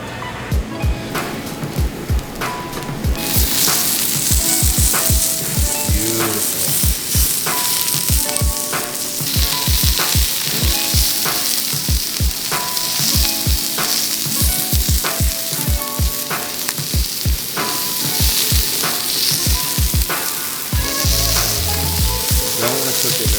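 1++ grade Hanwoo beef sizzling loudly and steadily in a hot pan at a Majang-dong meat market restaurant in Seoul, with frequent sharp pops and crackles throughout and no talking.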